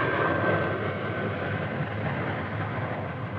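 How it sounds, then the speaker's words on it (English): A C-5 Galaxy military transport aircraft lands, a steady broad rumbling engine roar holding at even loudness throughout, with no speech. "peaking with the landing of a C-5 Galaxy, the world's largest aircraft"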